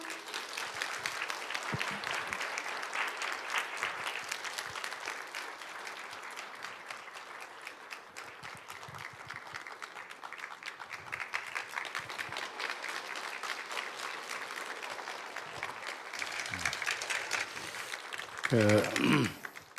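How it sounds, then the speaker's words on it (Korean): A church congregation claps to welcome a pastor to the pulpit, a long, steady round of applause at moderate distance that swells slightly before a closing flourish. "박수로 환영하겠습니다."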